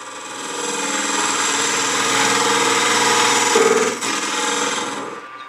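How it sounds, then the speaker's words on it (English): Inside-out turning tool scraping soft wood on a spinning lathe for a lidded rook box, a sustained loud whirring rasp that holds steady, dips briefly near the end, then resumes. "here I am again with that inside out tool, scraping it down maybe another eighth of an inch, and this is pretty soft wood"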